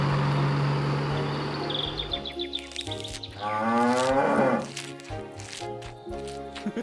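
Cattle moo loudly and nearby in several long, drawn-out calls, overlapping with other livestock sounds on a farm with a low steady hum underneath.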